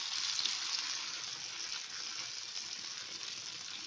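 Bread kachori stuffed with cheese deep frying in hot oil, a steady bright sizzle and crackle that holds evenly throughout at close range with no talking.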